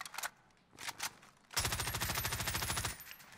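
Video game gunfire in Warzone: a few scattered shots at first, then a loud sustained burst of rapid automatic fire lasting over a second before cutting off.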